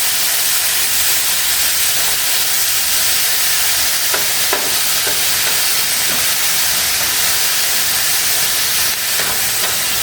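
Steady sizzling and hissing of carrots frying in a pan, continuous throughout with occasional faint clicks of stirring, no voices.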